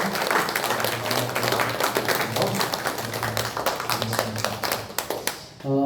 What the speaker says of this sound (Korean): 우리 선교사님들 우리 박수로 청해 주시기 바랍니다